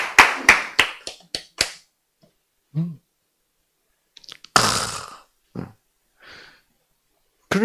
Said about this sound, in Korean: 자, 이것도 박수 보내야지.